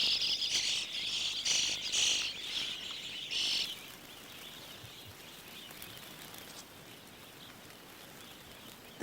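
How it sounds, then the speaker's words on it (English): A swarm of locusts flies over the Karoo, a dense, high buzzing whir that pulses for a few seconds, then drops to a faint, distant hum. "The locusts are now flying more strongly and forming larger swarms."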